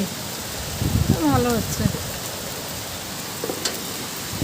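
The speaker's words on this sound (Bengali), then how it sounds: "কি ঝড় বৃষ্টি" Heavy storm rain pours in a dense, steady hiss, with a person speaking briefly near the start over the downpour.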